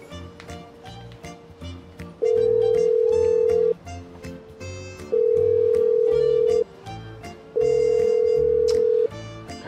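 Telephone ringback tone: three long steady tones separated by pauses, playing over background music.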